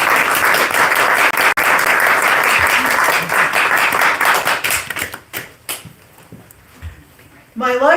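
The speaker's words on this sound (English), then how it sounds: "If you guys can give her a round of applause." Audience applause for poet Rosa Lane at a book presentation, loud close clapping for about five seconds that thins into scattered claps and taps, followed by a voice starting to speak.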